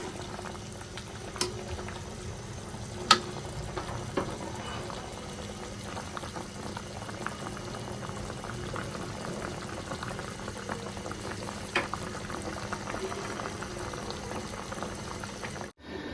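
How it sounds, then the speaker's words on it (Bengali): Dal bubbling at a steady boil in a cooking pot in a village kitchen, a continuous close churn of liquid with occasional sharper pops, alone without talk, ending abruptly. "এখন আমি ডাইল রান্না করছি"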